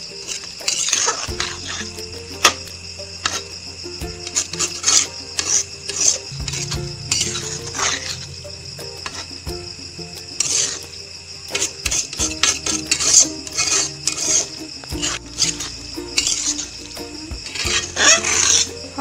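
Coconut poha being stirred in sugar syrup in a pan for an Assamese sweet, with steady scraping and clinking of the spoon against the pan over a soft sizzle, close and continuous.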